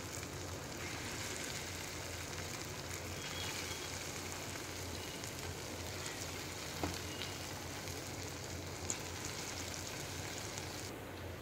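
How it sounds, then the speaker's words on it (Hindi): Rice-flour pakoras, a masala snack, frying in a pan of hot oil, giving a steady, dense, even sizzle and hiss that runs throughout at a moderate level, with no talking. "इसको भी अच्छे से फ्राई कर लेंगे"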